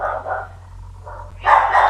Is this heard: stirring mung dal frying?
no